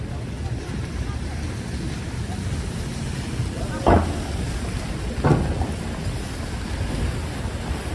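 Steady rain on a New York City street in Sutton Place, a broad, even wash of noise with two brief louder thumps partway through.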